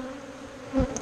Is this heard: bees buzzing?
yes